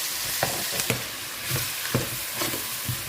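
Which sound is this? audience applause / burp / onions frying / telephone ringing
onions frying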